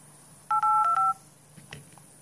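Touch-tone DTMF dialing beeps from a Samsung Galaxy S GT-I9000 running Android 6.0.1: four short, clean tones in quick succession, fairly close and clear, then near silence.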